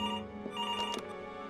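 A telephone rings in the video game Before Your Eyes: a short, bright electronic ringtone with layered tonal chimes, heard close and steady with no voices.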